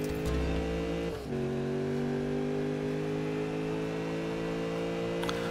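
Car engine drifting in Need for Speed (2015), a loud sustained high-revving drone that dips briefly as the gear shifts, then holds a steady strained whine with faint tire noise.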